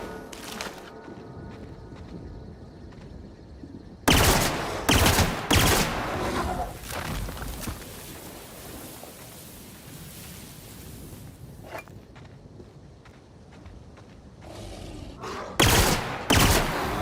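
Gunfire in the video game The Outer Worlds: loud bursts of rapid shots come in clusters after a quiet stretch, separated by calmer ambient noise, with another volley near the end.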